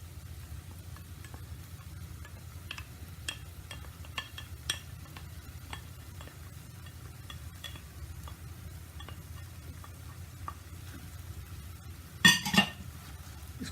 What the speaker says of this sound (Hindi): इसको मिक्स करके फ्लेम को ऑफ कर दें।